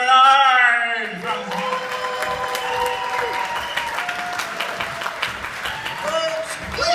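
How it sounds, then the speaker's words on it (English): Comedy club audience bursts into loud applause and cheering after a short tonal musical sting, the clapping and whoops sustained and dense throughout. "Give a huge round of applause for Mr."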